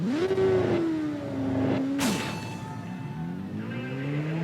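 Motorcycle engine revving in the TT Isle of Man 2 racing game, a short time-trial circuit in Scotland; a loud, near engine holds a high whine, drops sharply after a gear change, then climbs again steadily.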